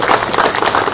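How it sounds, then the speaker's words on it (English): Crowd applause for the Gurkhas at a welfare trust event in Dharan, a dense, steady wash of many hands clapping, fairly loud and continuous for under a second. "I think round of applause"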